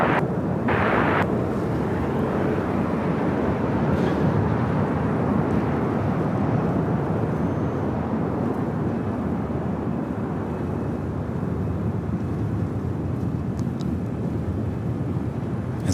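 Airliner departing LAX runway 25 right, a loud, continuous jet roar rumbling steadily throughout with no break, heavy low-end wash and broadband noise, no voices.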